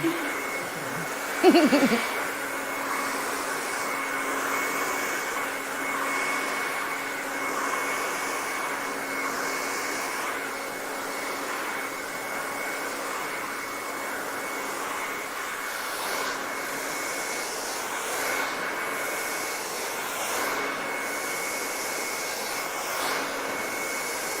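A hair blow dryer runs steadily during a quick weave install with extensions, a loud continuous whooshing drone lasting throughout, close by, with a brief bump near the start.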